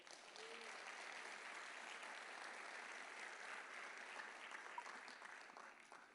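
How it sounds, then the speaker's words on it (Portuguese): A church congregation applauds during a sermon, steady sustained clapping from a crowd at moderate distance, even and continuous throughout with no talking over it. "Aplauda ao Senhor"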